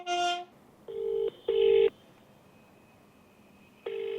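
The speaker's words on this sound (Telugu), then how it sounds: "తుంగతుర్తి ఎమ్మెల్యే మందుల సామేల్ గారికి ఫోన్ చేస్తున్నాం మనం." A phone call is being dialed, with short electronic tones heard in a few separate bursts, fairly close and clear. A brief voice comes before them.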